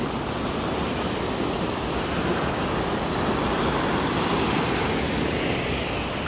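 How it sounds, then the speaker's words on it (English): Loud, steady rush of white water from a stream running through a desert, a continuous broadband roar close by with no pauses and no voices. "I hear running water."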